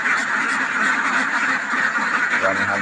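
A flock of domestic ducks raised for eggs quacks loudly and continuously close by, many overlapping calls forming a dense, steady chorus.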